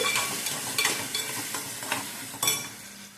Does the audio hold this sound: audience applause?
no